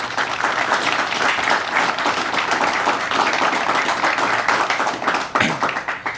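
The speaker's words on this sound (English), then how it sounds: "Will you join me in giving all of these peace officers a round of applause?" A crowd at a Peace Officers Memorial Day ceremony applauds the assembled peace officers, a loud, sustained wash of clapping that thins out near the end.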